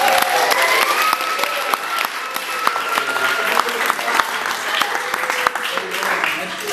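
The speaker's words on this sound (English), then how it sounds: "please give yourselves a big round of applause" Wedding guests at Hazlewood Castle give a lively round of applause during the groom's speech, a dense burst of many hands with some voices and a few cheers mixed in, loud and continuous throughout.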